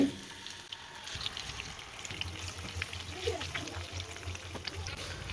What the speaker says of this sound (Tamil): இது நிறைய இருக்கிறதுனால ஒரே பேஜாக போட முடியாது ரெண்டு பேஜாக போட்டு பொரிச்சு எடுத்துக்கலாம்